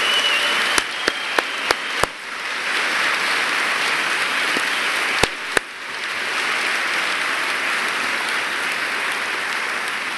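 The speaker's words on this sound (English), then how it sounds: "would you just join me in giving one more round of applause to all of the award winners?" A breakfast audience at the University of Guelph applauds award winners, sustained even clapping broken by several sharp, loud individual claps close to the microphone.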